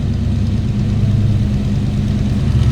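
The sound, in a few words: 1988 Chevrolet K5 Blazer 350 V8 engine idling rumble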